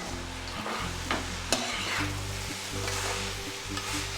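Soya rice stirred and fried in oiled pan, a steady loud sizzle with repeated scraping strokes and a sharp utensil knock, continuous and close with no talking.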